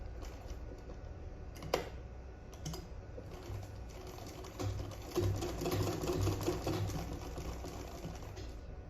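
A sewing machine stitches a seam on a sleeveless gown with a steady rapid whirr, quiet and close, broken by a few short clicks early on and growing fuller midway.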